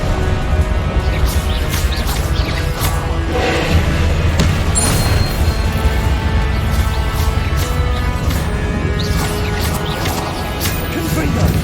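Repeated booming blasts of the Confringo fire spell in Hogwarts Legacy, loud and dense among constant game music and effects, with a voice speaking over the action.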